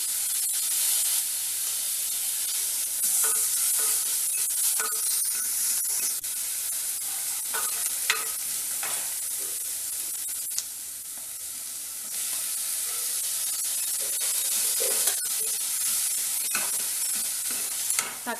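Ginger garlic paste fries with onions in a pan for moong dal rice, a continuous loud hissing sizzle broken by repeated scraping and knocking from a stirring spoon, with no voices.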